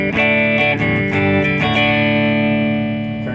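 Electric guitar through a Fender Hot Rod Deluxe III amp with treble and mids turned up, ringing out loud, close and bright with distortion and effects, chords struck a few times and then left to sustain.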